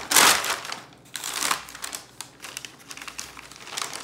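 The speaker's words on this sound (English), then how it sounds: "I'm folding it by pressing it outwards" A sheet of paper is folded and pressed by hand for bookbinding, with close crinkling bursts and soft rustles in an uneven rhythm.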